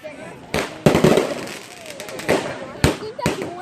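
Fourth of July fireworks go off in several loud, sharp bursts and crackles at uneven intervals, with people talking and reacting between the blasts.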